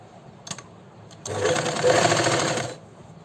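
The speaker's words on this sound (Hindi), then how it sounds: "अब फिर से वही दबाव की सिलाई।" Sewing machine stitching fabric piping for a sleeve design, a brief start-stop burst before a steady run of fast, even stitching lasting about a second and a half, close and clear with no talking.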